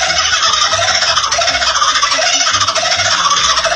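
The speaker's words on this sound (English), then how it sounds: "It's a kingfisher bird found in Australia that sounds like a guy trying way too hard to laugh at a cute girl's jokes." A kookaburra, the Australian kingfisher, calls in a sped-up recording played at double speed, giving a loud, rapid, chattering cackle of high squeaky notes that continues without pause.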